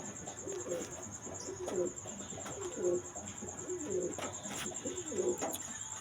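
Pigeons, a mated pair kept at a breeding cage, give repeated soft cooing calls in a steady rhythm, close and moderately loud, over a faint background hiss with no talk.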